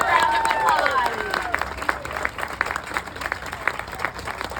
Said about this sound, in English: Give Heather a big round of applause.